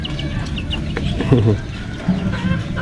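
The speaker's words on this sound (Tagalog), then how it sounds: "Sisiw lang yung nabili nila." A young chick clucks and peeps in short bursts close by, over a busy background with faint voices.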